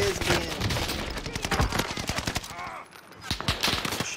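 Rapid automatic gunfire in a multiplayer shooter game, dense bursts of close, loud shots rattling almost continuously, with a brief lull before more firing.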